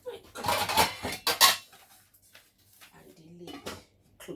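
A metal lid clatters onto a pot of goat meat pepper soup on a gas stove, with a few loud clanks of cookware near the start, followed by quieter kitchen rattles and faint voices.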